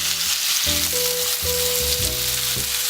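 Steak pan-frying in butter and a little olive oil, a steady close sizzle filling the whole stretch with some low scraping and clunks from the pan underneath.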